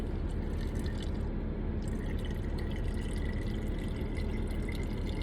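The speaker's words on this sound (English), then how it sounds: "I'm trying to pour this water into this thing without spilling it everywhere." Water is poured from a cup into a container, a continuous close trickle with small splashy drips and no talking.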